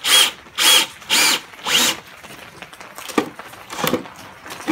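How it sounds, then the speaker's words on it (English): Power drill with a large paddle bit boring a hole in wood: four loud whirring bursts with brief pauses, then a rougher grinding stretch as the bit chews through, close up. "I'm gonna drill the hole right here so it's on the opposite side of the drill"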